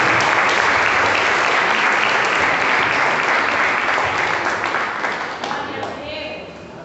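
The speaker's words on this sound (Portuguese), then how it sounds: "Se você crê, aplaude bem forte a Jesus." A church congregation at a Sunday service claps in loud, dense, sustained applause that fills the room, gradually thinning and fading near the end.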